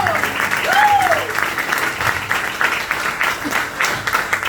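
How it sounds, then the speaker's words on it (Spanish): Church congregation applauding loudly during a Spanish-language sermon, a dense steady wash of clapping with shouts and cheers rising through it across the whole stretch. "¡Ay, dale fuerte ese aplauso,"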